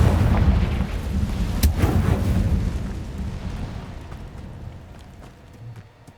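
A Confringo blasting spell explodes in Hogwarts Legacy, a heavy rumbling blast with a sharp crack partway through, then a long rolling decay that fades steadily away.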